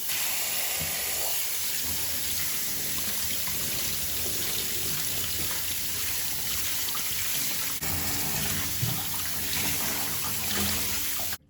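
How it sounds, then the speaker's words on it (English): Garlic washed under running cold tap water: a steady, close splashing and trickling stream with small irregular spatters as the cloves are handled, stopping abruptly at the end. "Then we wash them with cold water."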